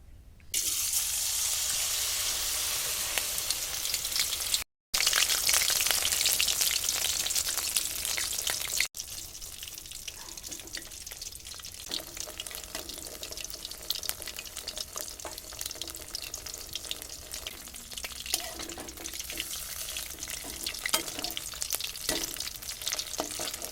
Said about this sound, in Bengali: ভালো করে এপাশ ওপাশ ডুবিয়ে মা এটা কি তেলে ছেড়ে দেবে, তাই তো?